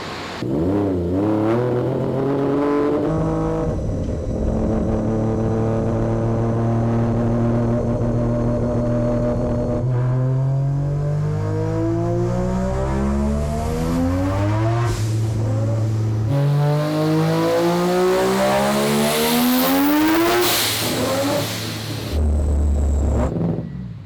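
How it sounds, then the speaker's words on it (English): A three-rotor Mazda RX-7 engine roars at full power through a dyno pull, its pitch climbing steadily in loud sustained sweeps, dipping briefly at a shift, then rising to a screaming peak before cutting off near the end. "This is the first and probably only power pull we're going to do. Full power through the whole power band."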